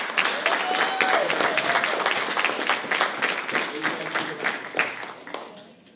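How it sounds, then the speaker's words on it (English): Crowd applause honours council members at a community gathering, with dense clapping, a whistle or cheer early on, and scattered voices, holding strong before thinning and fading out at the end. "So please give them a round of applause."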